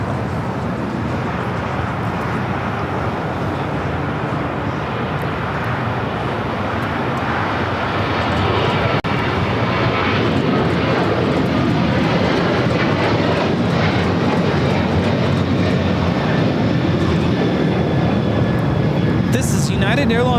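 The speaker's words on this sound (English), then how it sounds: "Airlines 1897 taking off to Denver on the 737-800, the Star Alliance livery" A Boeing 737-800 airliner in Star Alliance livery taking off at LAX gives a sustained rumbling engine roar that swells slightly partway through and stays loud, with someone talking over it.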